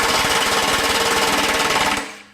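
A Kobalt XTR 24V high torque impact wrench hammers away in a loud, rapid, steady burst for about two seconds, then cuts off and winds down briefly.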